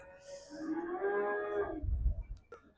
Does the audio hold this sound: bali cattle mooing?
yes